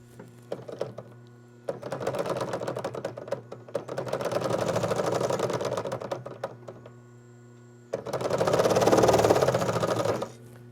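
A Singer 114W103 sewing machine stitches moss stitch in three runs, a rapid close mechanical chatter of needle strokes with a steady motor hum between bursts.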